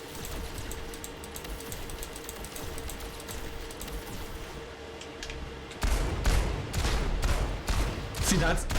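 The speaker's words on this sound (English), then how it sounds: "See, those gunshots are peeking up into the yellow for me." Rapid bursts of video game gunfire crackle through a stream's background, repeated sharp shots that grow louder and denser in the last few seconds.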